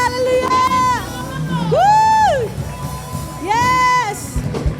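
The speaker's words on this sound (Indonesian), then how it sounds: "Berikan sorak-sorai buat Tuhan kita" Church congregation at a worship service cheering and shouting praise, with loud sustained rising and falling whoops and cries from many voices filling the room in several swelling waves.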